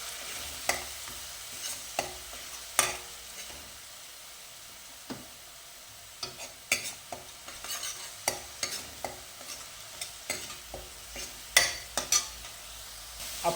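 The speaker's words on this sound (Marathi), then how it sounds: "कांदा रंग बदलेपर्यंत थोडंसं परतून घेऊया" Puréed onion being sautéed in a pan while it is stirred, with scattered scraping clicks of the spoon over a soft low sizzle, the stirs coming in irregular clusters close by and no voices.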